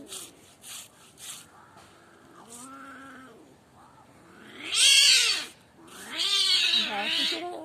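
An angry cat growls and yowls during a cat fight, its drawn-out wails rising into loud, harsh screeches, with a few short rustles between cries.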